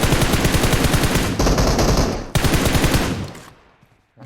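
Rapid automatic gunfire in PUBG Mobile rattles loudly and almost nonstop for several seconds, with a brief break midway, then fades out near the end.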